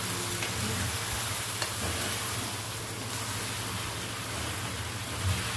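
Chicken fries in a karahi pan, giving a continuous close sizzle with a steady hiss and occasional faint stirring bumps.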